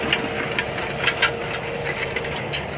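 A tractor engine idles steadily nearby at a brush fire, a low mechanical drone with faint rattling and a few soft knocks.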